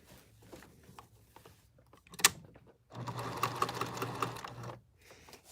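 Sewing machine stitching a prom dress seam during alterations: a quiet start with a sharp click, then a steady, fast motor-driven rattle running for about two seconds before stopping.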